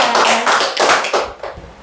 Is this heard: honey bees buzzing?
no